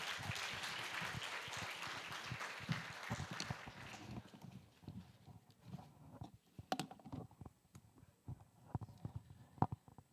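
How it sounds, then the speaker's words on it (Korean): Audience at an education forum applauds, a crowd clapping that starts fairly dense and faint, then thins out after a few seconds into scattered individual claps and small room noises. "큰 박수 부탁드립니다"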